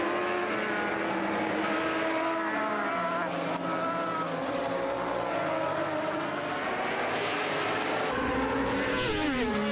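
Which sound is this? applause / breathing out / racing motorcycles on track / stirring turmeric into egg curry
racing motorcycles on track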